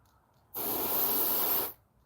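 Spray paint hissing onto a fishing lure in a single burst of a bit over a second, starting and stopping sharply, close and clear against near silence before and after.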